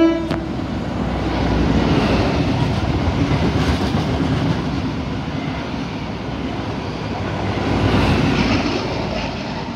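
Brisbane XPT passenger train NT31 rushes past with a loud, broad roar and rumble of wheels and power cars, swelling twice as it passes close, with no voices.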